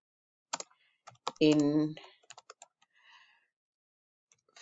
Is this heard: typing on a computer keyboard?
yes